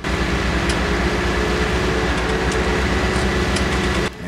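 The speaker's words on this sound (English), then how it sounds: "I'm gonna be quiet so you guys can hear that engine again." A modded farm vehicle engine runs steadily in the Farming Simulator game, a loud, close mechanical drone with an even low rumble, alone without talk, cutting briefly near the end.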